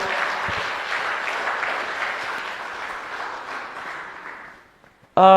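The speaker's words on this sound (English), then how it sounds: "Let us give our young boys a good round of applause." Audience applause at an academic multidisciplinary conference, honoring young presenters after a manuscript system commissioning; a steady, dense clapping that fades out over several seconds before a sudden loud burst at the end.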